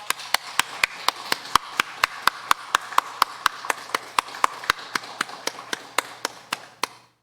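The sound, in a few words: congregation applauding in church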